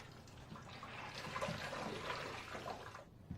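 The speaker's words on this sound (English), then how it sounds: "Wring out the excess into the wringer bucket" Water streams and splashes as a mop is wrung out into a wringer bucket, a continuous gushing pour that eases off near the end with a faint knock.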